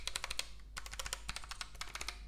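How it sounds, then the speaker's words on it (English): Quick, crisp clicks of typing on a Keychron low-profile mechanical keyboard with brown switches, bursts of keystrokes close up with brief pauses, no talking. "I have behind me a low profile mechanical keyboard from Keychron. Here's a little sound test."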